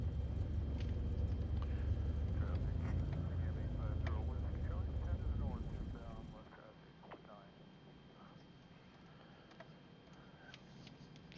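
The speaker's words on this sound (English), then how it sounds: "Cessna 162 SkyCatcher. Sweet little plane." A Cessna 162 SkyCatcher light airplane's engine drones loud and low for several seconds, then the roar drops away sharply to a quiet background, with a voice talking over it.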